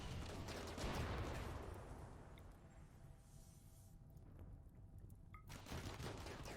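Gunfire in the video game Rimworld, a dense, continuous crackle of rapid shots that thins out briefly and then picks up again, heard alone at low volume.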